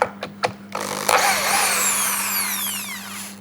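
A Dongcheng DJZ10-10 electric drill backs out a screw. It starts with a few short bursts, then runs in a continuous whining spin that winds down in pitch, loud and close with no voices.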